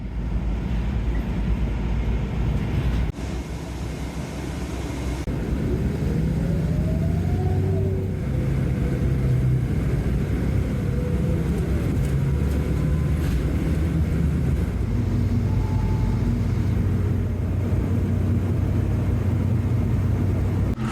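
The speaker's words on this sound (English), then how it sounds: "There's a bus coming." A city bus in the Laurentides region approaches and drives along, a steady engine rumble that holds at a fairly loud level across the whole stretch, with shifting gear tones and no talking.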